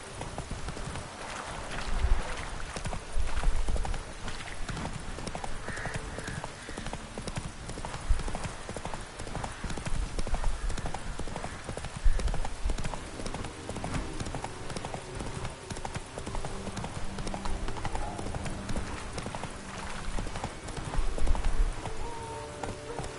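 Roach, Geralt's horse in The Witcher 3, gallops at a fast pace with continuous hoof clip-clops. The rhythmic beats stay loud and close over a busy game soundscape for over twenty seconds.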